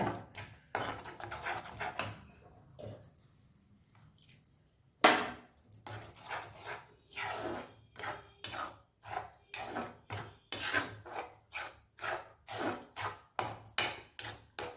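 A spoon stirs chili powder into eggplant gravy in a pan, making repeated scraping and knocking strokes in a steady rhythm, with a brief pause before the stirring resumes.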